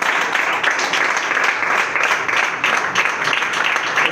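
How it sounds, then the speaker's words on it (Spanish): A church congregation breaks into applause during a service, a moderate, steady wash of many hands clapping that holds evenly throughout. "Den un aplauso al Señor."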